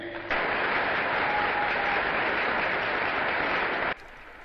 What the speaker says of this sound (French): À la suite de ces chaleureux applaudissements